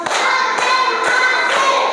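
A classroom of students claps an Indonesian cheer in rhythm, four firm evenly spaced group claps about half a second apart, close and loud, with no speech over them.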